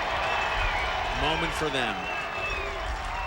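Washington College fans celebrate a lacrosse championship win at the 1998 NCAA Division III finals. A continuous crowd roar sits under a male announcer's commentary.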